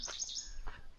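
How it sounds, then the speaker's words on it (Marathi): Birds chirp on a quiet Konkan village morning, with a quick burst of several high, faint chirps followed by one more brief call against a soft background. "शांत वातावरण आणि मस्तपैकी पक्ष्यांचा किलबिलाट."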